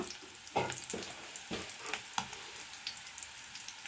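Onions, curry leaves and a pinch of turmeric fry in a pan for palak fry, giving a quiet steady sizzle broken by several soft scrape-like stirring knocks, with no voices.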